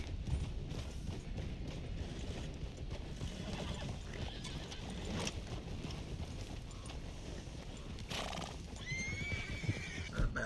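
Hungarian half-bred horse in the video game Red Dead Redemption 2, hooves clip-clopping steadily under wind noise, then a loud whinny near the end.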